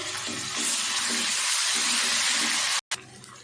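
Ginger and garlic fry in ghee with a steady, dense sizzle throughout, briefly cut off near the end before resuming.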